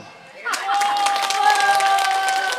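An audience at an open-air comedy show on Goraebul Beach in Yeongdeok breaks into applause. Dense clapping starts abruptly and holds steady to the end, with a voice carrying over it.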